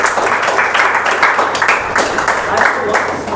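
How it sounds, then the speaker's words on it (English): An audience at a spoken English student valedictory function applauds loudly and steadily, a dense, continuous wash of clapping from a nearby crowd. "they deserve a big round of applause"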